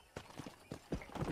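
A horse in the Red Dead Redemption western game trots with quick, faint clip-clop hoofbeats in a light uneven rhythm over a quiet background.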